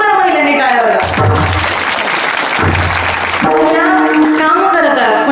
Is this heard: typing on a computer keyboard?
no